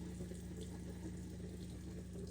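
A sink tap runs steadily with water pouring into the basin during a skincare routine, a continuous close splashing rush with no talk over it.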